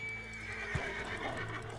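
A horse in the RedM video game gives a short neigh with a clip-clop of hooves under a steady low background hum, brief and fairly clear.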